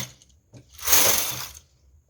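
A knitting machine carriage slides across the needle bed while knitting a lace pattern, giving a brief whooshing, clicking mechanical pass after a few faint knocks, close and alone.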